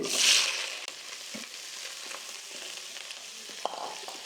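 Crushed garlic sizzles in a hot pan as onion and chili are added for a restaurant-style Chinese broccoli chicken. A loud burst of frying opens the sound, then it settles into a close, steady sizzle with occasional stirring clatter.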